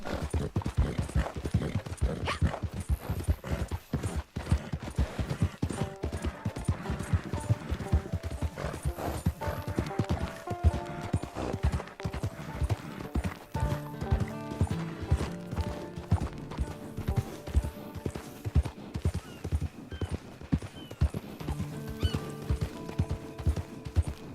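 A horse gallops in Red Dead Online, its quick rhythmic hoofbeats drumming steadily throughout at moderate volume, with an occasional whinny and background music beneath.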